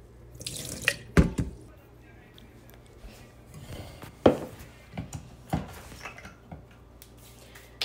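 Chopped bitter gourd being washed with water in a jar, giving sloshing splashes and a few sharp water pours and knocks spread irregularly across the clip, close and fairly quiet.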